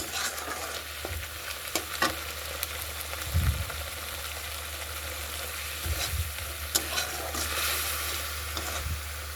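A spice masala fries in oil in a pan, giving a continuous crackling sizzle with several low scraping thumps as it is stirred, close by and with no voices.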